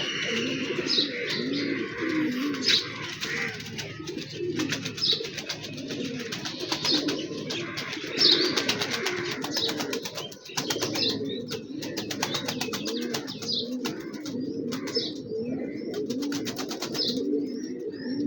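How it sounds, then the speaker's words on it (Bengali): Pigeons coo steadily at a loft, overlapping low rolling calls from several birds close by, with occasional sharper chirps and faint wing flutters throughout. "একটা আউটসাইডের কবুতর এখানে হ্যাঁ এই কবুতর চালিতে ঢুকতে চায়"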